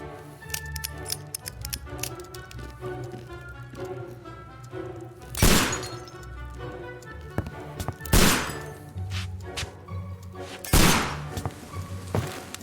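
Three loud, sharp gunshots ring out a few seconds apart over a steady music bed during a comic murder-mystery scene.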